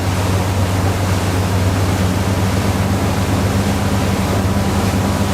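A deep V hull boat at sea surges onto the plane, a dense, steady roar of engine rumble and rushing water filling the whole clip at high, unchanging loudness.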